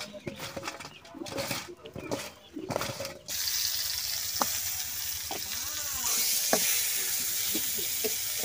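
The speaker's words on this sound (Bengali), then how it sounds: "এখন আমি এই বেগুনটা ভাজি করে নেব" Eggplant slices hitting hot oil in a pan with a sudden rush of steady sizzling after a few seconds of muffled handling and clatter, close by, with occasional knocks from stirring.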